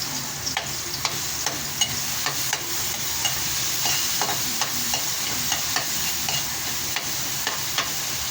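Garlic sizzles steadily in a hot pan while a utensil stirs it, with regular scraping clicks punctuating the frying hiss throughout, close and moderately loud with no talking.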